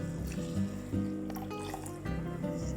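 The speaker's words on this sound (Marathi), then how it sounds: "आता त्यामध्ये आपल्याला हे जे आपण पीठ पाण्यामध्ये मिक्स करून घेतले ते घालायचे" Jowar flour mixed with water is poured into a pot, a soft trickling, gurgling liquid sound close by and fairly quiet.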